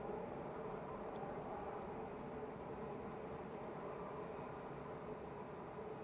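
An airliner comes in to land at Manchester Airport in Storm Ashley's strong winds, a steady broadband roar of engine and gusting wind holding loud and unbroken throughout with no voices.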